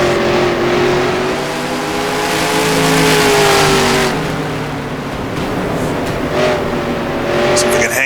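A vintage 1960s NASCAR truck engine drones loudly and steadily in the NR2003 racing game, its pitch rising and falling through corners with other trucks nearby, continuous and close throughout.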